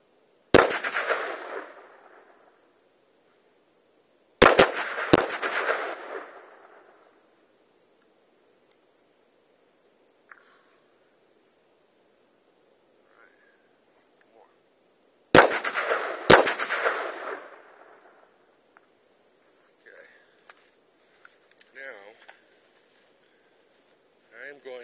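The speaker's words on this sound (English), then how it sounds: "It's a very easy gun to shoot." Three sharp, loud handgun shots at a range, spaced several seconds apart, each followed by a brief ringing echo, with quiet gaps between.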